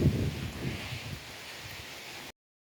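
Wind gusts buffet the microphone, rumbling loudest at the start, then settle into a steady rustling hiss before an abrupt cut.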